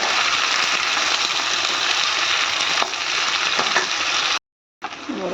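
Potatoes and beans fry in a pan with a dense, steady sizzle and occasional stirring scrapes, cutting out briefly near the end before the hiss resumes.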